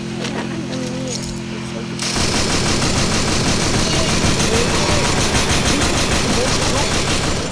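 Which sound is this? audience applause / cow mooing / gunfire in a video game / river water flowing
gunfire in a video game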